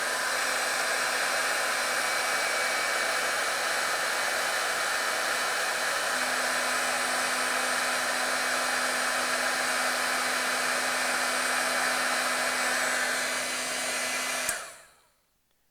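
A heat tool blows a steady, loud whirring hiss while warming a foam stamp circle, running unbroken for about fourteen seconds before cutting off abruptly.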